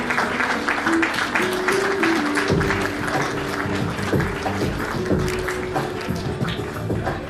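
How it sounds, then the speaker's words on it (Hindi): An audience at an award ceremony in a Patna hotel gives a sustained round of applause, dense clapping filling the hall, with a steady tone and music audible underneath. "जोरदार तालियां हो जाए नाम के लिए"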